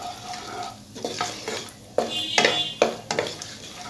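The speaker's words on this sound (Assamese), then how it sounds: "এইখিনি মই এনেকৈ লৰাই দিম" Cashews and ground spices are stirred in a pan for a shahi paneer base, making repeated scraping and clinking strokes of a utensil against metal over a light sizzle, close and steady with no talk.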